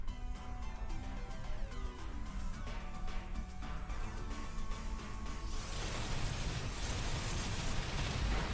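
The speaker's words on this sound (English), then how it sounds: "Somebody calling for a little rainstorm?" Rainstorm in the Pokemon Shield video game, a steady broadband hiss of rain that swells louder and denser toward the end, over faint game music and tones.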